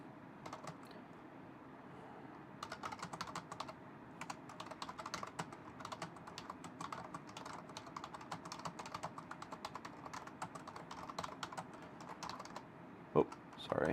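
Rapid, fairly quiet clicking of a computer keyboard being typed on continuously, irregular keystrokes close by with a louder clack near the end.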